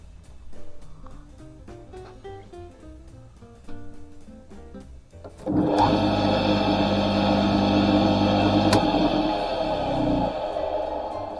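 An AOLB 32-2 electric motor with an unusual winding is switched on partway through, jumping from a quiet room with faint ticks into a loud, steady whine and hum that runs on, with a brief sharp click near the end.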